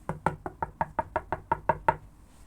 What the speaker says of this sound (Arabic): ماما خبط وخلاص